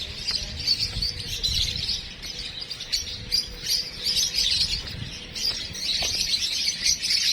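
Small birds chirp and tweet repeatedly by a lakeshore near a lighthouse in Mexico, Pampanga, steady, moderately close calls over a constant outdoor background with no talking.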